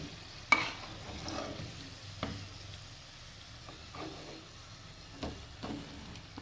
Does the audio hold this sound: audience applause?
no